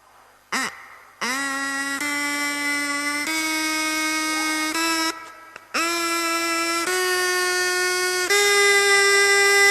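A plastic drinking-straw whistle is blown in bursts at a science demonstration, giving bright buzzy reed tones whose pitch steps higher as the straw is snipped shorter, with brief gaps between blows.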